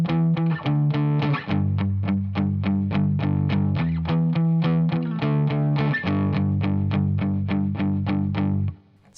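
Distorted electric guitar plays the opening power-chord progression of a song: steady, evenly strummed chords in a driving rhythm, loud and close, alone without voices, ending with a brief fade.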